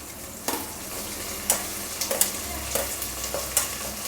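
Tomato sautéing in a pan for brinjal and drumstick sambar, with a low steady sizzle broken by several sharp scrapes and taps of a spoon stirring against the pan, close up and with no voices.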